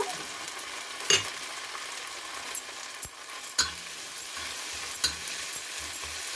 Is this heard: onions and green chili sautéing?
yes